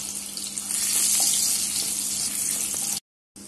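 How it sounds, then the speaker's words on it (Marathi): Curry leaves and four to five crushed garlic cloves sizzling in hot oil as tempering for ambat varan, a sour Marathi dal. A loud, steady hiss runs close by, then cuts to silence briefly before resuming near the end. "त्यानंतर मी कढीपत्ता घालतीये, त्यानंतर मी लसूण घालतीये ठेचलेला"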